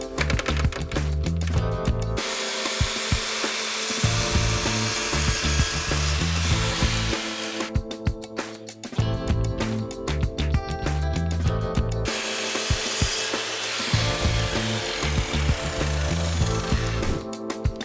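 Wooden slats being cut with a pull saw and a mitre saw at a 22.5-degree angle, a loud, continuous rasping and whining that runs in long bursts with brief pauses between cuts, close up with no talking.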